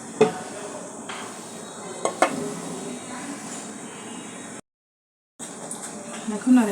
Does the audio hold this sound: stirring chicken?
yes